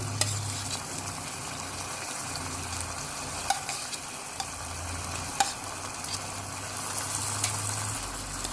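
Squid frying in a pan for tom yum seafood spaghetti, a steady loud sizzle with occasional stirring clinks and scrapes, continuous throughout with no voices.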